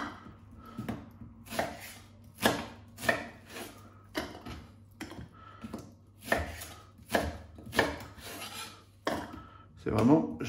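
An electric food chopper cuts garlic and basil for stuffed aubergines in a series of short, sharp bursts roughly once a second, each a loud whirring chop followed by a brief pause, with no one speaking.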